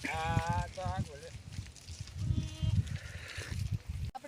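Sheep and goats bleat several times in a farmyard flock, the wavering calls clustered near the start and again in the middle, with people talking and livestock noise throughout.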